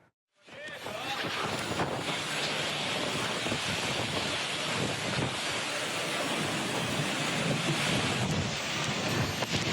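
A sudden, violent windstorm with heavy rain lashes Desa Mangunjaya in Pangandaran, West Java, a dense, steady roar of gusting wind and pouring rain that stays loud and continuous from start to finish.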